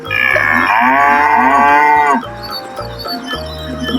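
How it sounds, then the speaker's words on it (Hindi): A cow moos in one long, loud, drawn-out call that rises and falls, then stops, with a steady beat of background music running underneath throughout. "COW, काऊ। काऊ मीन्स गाय।"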